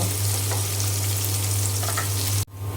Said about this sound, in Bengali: রসুন কুচি খুব সুন্দর করে ভেজে নেব